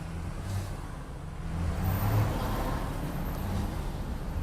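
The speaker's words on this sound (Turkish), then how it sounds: "Kamyon sesini geçelim." A heavy truck rumbles past nearby, its low engine drone swelling midway and then holding steady, with no one speaking.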